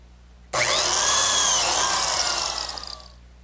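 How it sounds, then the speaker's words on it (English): A biscuit joiner spins up and cuts a slot into the edge of a wooden board for a butler's table, a single loud continuous whine that holds steady, then winds down and fades. "Now I'll cut all the slots in the remaining edges."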